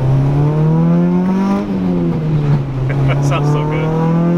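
A K-swapped Honda Integra GSR engine revs loud and close, holding a strong steady drone that rises slightly in pitch before settling.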